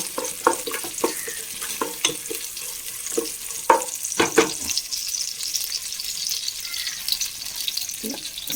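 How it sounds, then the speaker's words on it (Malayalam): Whole spices and washed raisins frying in ghee, a soft continuous sizzle broken by irregular stirring scrapes and taps of a utensil against the pan, close and moderately loud, with no talking. "ഞാൻ കുറച്ച് ഓൾ സ്പൈസസ് ഇട്ട് കൊടുക്കാം. അതൊന്ന് വഴണ്ട് വരട്ടെ"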